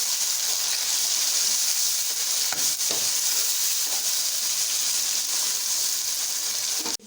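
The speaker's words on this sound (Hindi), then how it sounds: "टमाटर लेके वो टमाटर सारे इसमें डाल के अच्छी तरह से इसको मिक्स करूँगी।" Tomatoes are stirred into garlic and chili paste frying in a pan for beef biryani. A steady, close sizzle hisses throughout, with a few brief scraping stirs near the middle.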